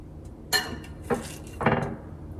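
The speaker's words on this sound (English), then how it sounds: "Now I'm just going to put the fish inside of the little basket." Pieces of fish set down one after another into a small metal air fryer basket, giving three soft clattering knocks with a faint metallic ring, close and fairly quiet with no talking.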